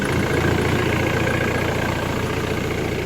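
Ford Mondeo ST engine running, a steady loud rumble close by with constant broadband roar and no break for the whole stretch.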